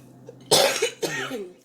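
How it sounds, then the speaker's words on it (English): Two sharp, close coughs from a woman, the first harsher and the second slightly softer, separated by a brief pause in an otherwise quiet room. "I still have that cough."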